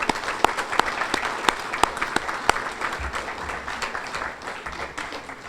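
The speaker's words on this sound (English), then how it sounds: "Another round of applause for Keith, please." A hall of fame ceremony audience applauds, sustained crowd clapping with a few sharp near claps standing out, steady throughout.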